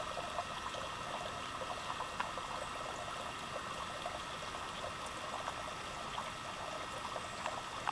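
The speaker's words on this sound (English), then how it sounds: "We're coming across one of the water sources, and there's not a lot of water coming down today." A thin trickle of water from a stream source runs steadily over rocks on a backcountry trail, soft and continuous with a faint gurgling texture throughout.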